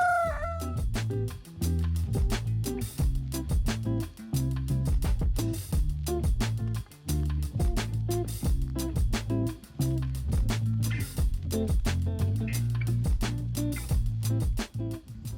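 Farm chickens clucking and a rooster crowing continuously, loud and close, with dense overlapping calls throughout.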